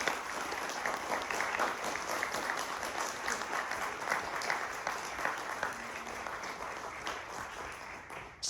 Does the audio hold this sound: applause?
yes